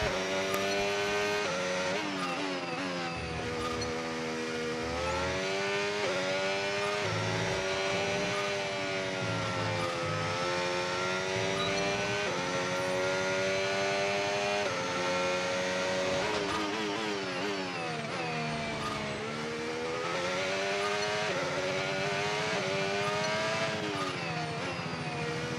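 A race car engine drives hard around a circuit, loud and steady, with repeated rises and falls in pitch through gear changes and corners, heard alone for the whole stretch.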